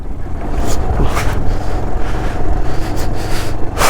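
Water runs down across a rough off-road mountain track on the route to Muktinath in Mustang, Nepal: a steady, loud rushing wash with gusty wind noise throughout and no voices.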